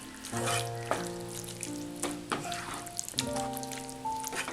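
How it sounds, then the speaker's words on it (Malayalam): Bilimbi pickle stirred in a pot right after vinegar is poured in, giving soft scraping and sloshing under a faint hiss, with a few tonal clinks and bumps at intervals. "വിനാഗിരി ഒഴിച്ചിട്ട് ഇതൊന്ന് ഇളക്കി കൊടുക്കുക."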